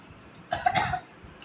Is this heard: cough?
yes